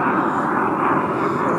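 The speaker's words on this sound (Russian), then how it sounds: "Блин, самолет." A fixed-wing airplane drones steadily overhead above a vegetable garden in October, a constant broad engine roar for the whole short stretch.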